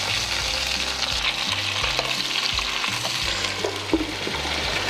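Sprouts sizzle steadily in hot oil in a pan, a continuous frying hiss with occasional stirring scrapes, close and fairly loud with no talking.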